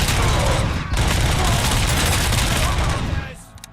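Sustained, loud pistol fire from the video game Robocop: Rogue City, a dense continuous barrage of shots lasting about three seconds before tapering off.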